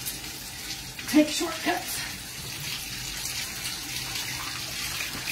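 A pet bathing system's recirculator sprays water mixed with conditioner over a dog during a grooming session with pet color shampoo. The spray makes a steady hiss throughout, and a voice speaks briefly near the start.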